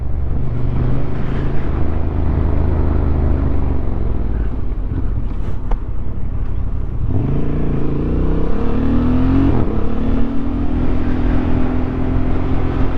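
A Honda CB750 Hornet motorcycle engine with a fault, running loud and steady, its droning pitch dipping and rising partway through as the revs change.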